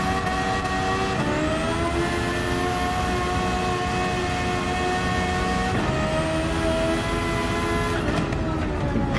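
Engine-swapped Suzuki Swift Sport in Gran Turismo 7 revving hard and continuously near redline, a loud, dense, high-pitched engine scream with a few brief pitch dips as it shifts or lifts, no talking.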